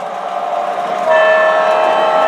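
An MTH Proto 3 O gauge model diesel locomotive sounds its horn on a DCC-controlled layout, a steady electronic tone that swells louder partway through and holds continuously over the running train.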